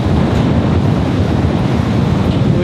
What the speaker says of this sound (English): It's proper windy, you can see.